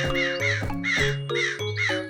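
Crows caw loudly and close by, giving four or five harsh, drawn-out calls in quick succession that overlap slightly and carry no speech.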